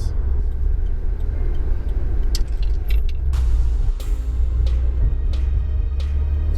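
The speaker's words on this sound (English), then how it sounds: "It's a little tire scrub, not too bad though." An all-wheel drive car with about 265 horsepower corners on a road, its steady engine and road rumble running throughout, with a few sharp ticks and a slight tire scrub faintly audible.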